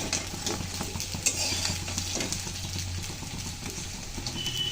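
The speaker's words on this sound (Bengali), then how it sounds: "আর ফুলকপির বড়াগুলো কিন্তু প্রায় বাজি হয়ে গেছে" Cauliflower fritters fry in hot oil, a close, continuous sizzle with some stirring scrapes and a light clink, holding steady without talk.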